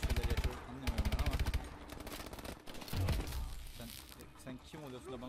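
Rapid automatic gunfire in Call of Duty: Advanced Warfare, loud bursts of evenly spaced shots at the start, then a busy mix of weapon fire and combat noise, with a voice talking underneath.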